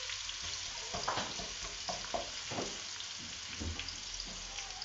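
Onion frying in a pan for a pasta dish with octopus gives a steady close sizzle with soft crackles and stirring scrapes throughout. No one speaks.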